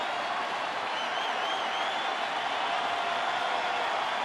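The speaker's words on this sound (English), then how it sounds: "Crowd now asking him to punch out Rosario" A baseball crowd roars steadily for Los Angeles Dodgers pitcher Clayton Kershaw during his 2014 no-hitter against the Colorado Rockies, urging a strikeout of Rosario. The broad, even wash of distant stadium noise carries throughout, with no voice over it.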